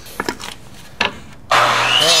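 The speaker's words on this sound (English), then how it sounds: "So I have to drill a hole first and then put a screw in there." A power drill bores a hole into wood while a double window sill is being replaced, starting after a few light taps and whirring loudly and steadily for the last second.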